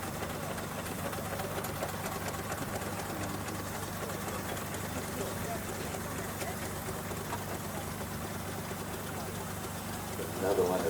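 A half-size overtype steam wagon, a miniature steam traction engine at a country fair, runs with a steady mechanical chugging and rumble, close by, with a voice talking over it.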